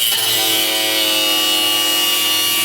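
A power tool cuts through the body of a Jeep, giving a loud, continuous, harsh grinding whine held close and steady for the whole stretch with no talking.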